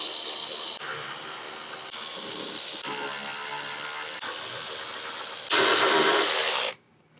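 A ratchet wrench clicks steadily as it removes 10 mm nuts from the side rails of a 2021+ sixth-generation Ford Bronco. The rapid clicking runs throughout, grows louder for a final stretch, then stops abruptly.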